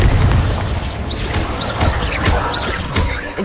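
A Confringo spell explosion in Hogwarts Legacy, a loud booming blast followed by rumbling bursts and popping crackles repeating over a few seconds, close and forceful with no voices over it.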